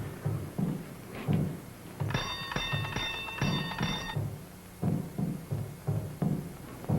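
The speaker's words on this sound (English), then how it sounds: "You ring the bell." Old-fashioned doorbell ringing in a bright, sustained metallic trill for about two seconds, set amid thumping footsteps and background movement.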